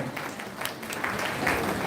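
Church congregation clapping during a rainy-day live service, a soft, steady patter of many hands at moderate distance, fairly brief.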